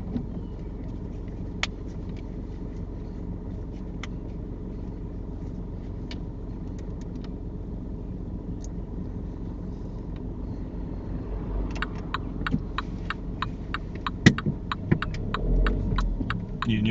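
A car pulls away during a driving test, its engine a steady low hum and throb inside the cabin, followed by a run of ticking clicks near the end, no voices.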